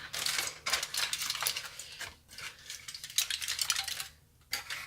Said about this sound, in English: Time to take the garlic out of its pouch.